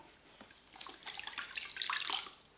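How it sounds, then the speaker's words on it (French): Running water splashes as a face is rinsed at a basin after lathering a beauty product, a soft, close and fairly quiet wash of water that builds slightly, with no talking. "Je rince"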